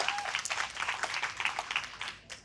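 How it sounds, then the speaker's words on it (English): Audience applause at a live franchising business event, a dense spread of claps for a few seconds that rises and then thins out near the end. "So she needs a really big round of applause."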